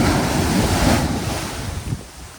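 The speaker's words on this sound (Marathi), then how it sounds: "चांगल्याच लाटा आहेत" Sea waves break and wash onto a Konkan shore at sunset in a loud, rushing roar, mixed with gusty wind noise on the microphone.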